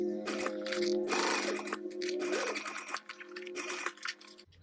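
A sewing machine stitches binding onto an I Want Candy quilt in quick bursts of whirring needle runs with brief pauses between them. The sound is close but fairly quiet, and nobody talks.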